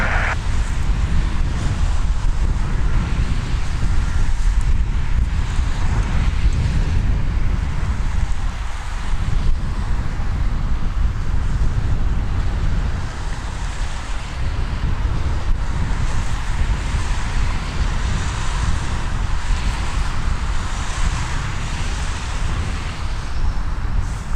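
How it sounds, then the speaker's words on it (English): Strong wind buffets the microphone at an airport at night, a loud continuous roar with low rumbling gusts that swell and ease across the whole stretch without any break. "The wind is starting to pick up"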